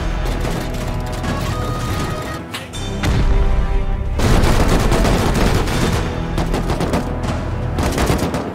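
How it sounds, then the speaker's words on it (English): Rapid bursts of gunfire from a Rust raid during the Halloween event, with dense volleys and booms crackling continuously and loudly, intensifying midway through. "Oh, they're shooting."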